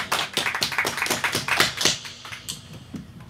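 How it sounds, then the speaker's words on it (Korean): During a live music broadcast, a small handful of people clap in a quick, close burst of sharp claps that thins out and trails off into a few scattered claps. "박수!"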